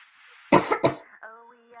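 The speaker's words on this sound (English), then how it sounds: "I still have that horrible cough." A short burst of two or three harsh coughs up close, followed by a brief voiced throat sound.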